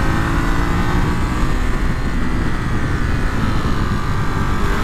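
A 2023 Ducati Monster SP motorcycle engine while riding, a loud, dense, continuous rumble with wind roar mixed in, steady and close throughout with no talking.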